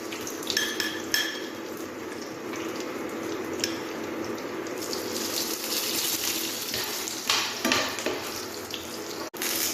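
Dried red chillies frying in hot oil in a pan while cooking tomato rice, giving a steady close sizzle with occasional clinks and scrapes of a utensil against the pan.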